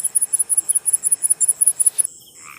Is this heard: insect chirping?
yes